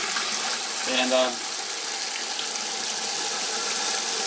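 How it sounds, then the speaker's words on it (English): Water pours steadily into a large canning pot holding jam jars, a continuous close rushing gush that barely changes, with a brief voice near the start. "I leave the jars right in there, fill them all up with water."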